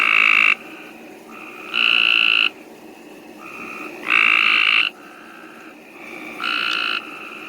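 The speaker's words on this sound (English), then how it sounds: "Pope's gray tree frogs." Pope's gray tree frogs calling on a rainy night, four loud, buzzy trilled calls coming in regular bursts, with softer calls continuing in the gaps between them.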